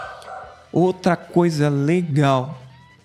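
A pet dog barks and yips several times in quick succession, loud and close, breaking into a Portuguese-language talk about church worship ministry.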